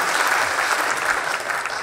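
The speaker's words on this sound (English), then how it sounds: "let's give them a big round of applause" Conference audience applauding, a brief burst of dense, even clapping filling the room.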